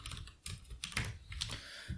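Typing on a computer keyboard while filling in a React.js form field, a few quick soft key clicks in irregular bursts, close and quiet, with no talking.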